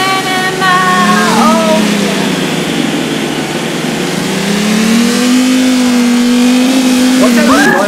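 A Lamborghini Huracán engine revs and pulls through rising and falling gear tones, staying loud and close throughout while people talk over it.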